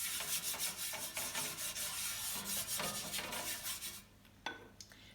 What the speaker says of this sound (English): You'll be brushing a bake sheet with olive oil.